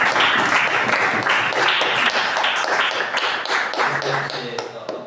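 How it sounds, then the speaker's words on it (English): Audience applause at a joint Toastmasters club meeting. The clapping is fairly close, with individual claps distinct in an uneven, lively rhythm that thins out toward the end, and a voice is briefly heard. "can we have an amazing round of applause?"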